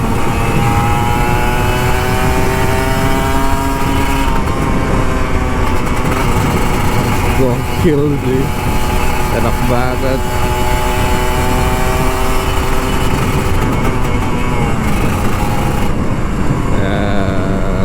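A Kawasaki Ninja RR 150 motorcycle is ridden hard on a morning Jakarta road, its high-pitched engine revving loudly and shifting through the gears with continuous wind rush, while a rider speaks briefly over it.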